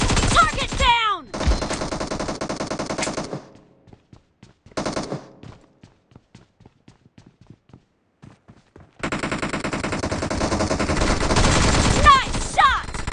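Rapid shotgun blasts and gunfire bursts from PUBG Mobile played on an iPad 8th gen, loud and dense at the start, a quieter patch of scattered shots and footsteps in the middle, then heavy continuous firing returning near the end.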